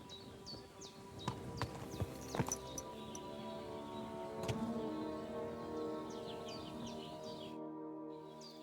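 Horse hooves clip-clop in Kingdom Come: Deliverance II, a few uneven close steps sounding over steady ambient tones and light bird chirps, ending in near silence.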